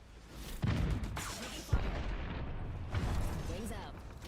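Apex Legends gunfire cracks and booms in bursts under a steady rumble of battle noise, while a player talks over the shooting.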